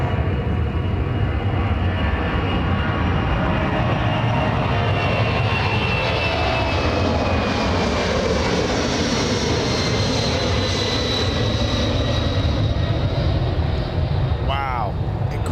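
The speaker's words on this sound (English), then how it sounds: "there's the rotation for the C17 Canadian. Let's enjoy that sound, that rumble." Royal Canadian Air Force C-17 military jet transport taking off at Anchorage's Ted Stevens International Airport, a loud continuous engine rumble and roar with rising whine, steady throughout, with a commentator talking over it.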